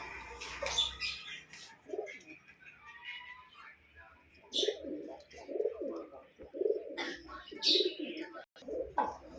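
Pigeons coo inside an aquarium and pet shop that also sells tournament pigeons, with a string of soft, throaty coos repeating in the second half among other chirps and faint voices nearby.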